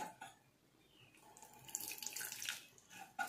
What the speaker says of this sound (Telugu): ఇంకా కొంచెం నీళ్ళు పోసుకున్నాను.